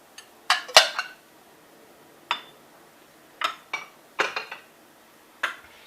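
Eggs cracked and separated by hand in a kitchen while making brown-butter chocolate chip cookies: sharp taps and knocks of shell on a bowl edge, several isolated clicks spread out, close, with no talk.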